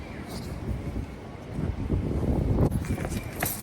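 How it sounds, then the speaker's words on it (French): Strong warm wind buffets the microphone in gusty, rumbling bursts outdoors near Sensoji Temple in Tokyo, loud and continuous throughout. "Aujourd'hui, il y a beaucoup de vent, mais le vent est chaud"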